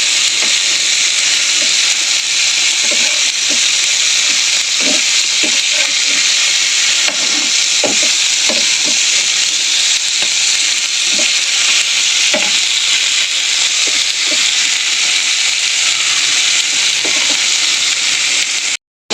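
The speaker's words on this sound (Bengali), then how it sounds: "আমার মাছটা ভালো করে ভাজা হয়ে গেছে" Fish fries on a nonstick tawa with a steady, close sizzling hiss that runs throughout, broken by scattered soft pops and spatters, with no talking.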